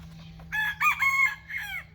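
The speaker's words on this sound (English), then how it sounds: "And that is the rooster over there." A rooster crows once at a nature study school near Kirstenbosch Botanical Gardens, a loud, clear multi-part cock-a-doodle-doo over a quiet background hum.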